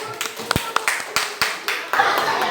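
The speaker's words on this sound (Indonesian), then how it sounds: "tepuk tangan untuk kelompok 3" Students in a junior high school classroom applaud a group that has just finished its presentation. A short burst of loud, uneven hand claps rings out close by, with voices mixed in.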